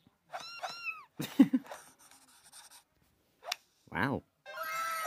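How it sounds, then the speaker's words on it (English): Cat meows heard in a short animated compilation: a few rising-falling meow calls near the start, then scattered sharp vocal sounds and a longer cry, with quiet gaps between them. "A cat."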